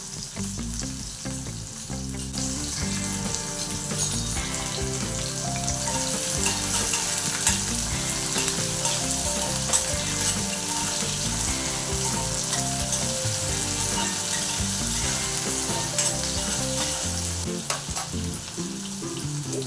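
Medium-sized onion pieces and chilies sizzle steadily in a hot pan for South Indian sambar, a loud continuous frying crackle with occasional stirring and no talk.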